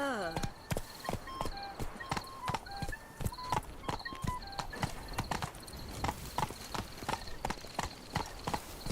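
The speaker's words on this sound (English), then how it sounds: "I'm taking the horse." A horse trots in The Witcher 3: a steady, even clip-clop of hooves repeating throughout, close and clear, with a soft tonal game background underneath and no talking.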